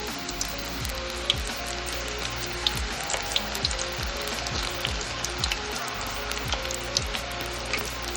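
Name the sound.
onion pakoda frying in oil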